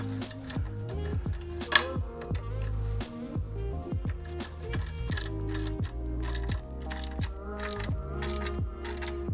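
A ratchet tool tightens a bolt on a Hepco & Becker Easy Rack fitted to a Triumph Tiger 900, giving close, continuous rapid clicking in a steady back-and-forth rhythm, with one sharper metallic knock partway through.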